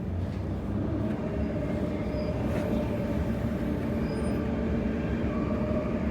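Inside a Transperth MAN B-series electric train leaving Perth Underground: a continuous, steady rumble and hum of the carriage in motion, loud and close, with no talking.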